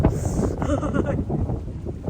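Cold, dry wind gusts across the microphone in a backyard garden during a chayote harvest, a steady roaring rush with a muffled voice partly buried beneath it.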